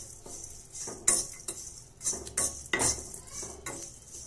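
Spices scrape and rattle as they are stirred in a dry pan on low heat, in short irregular bursts with light metallic clinks.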